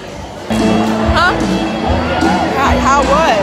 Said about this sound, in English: everyone cheer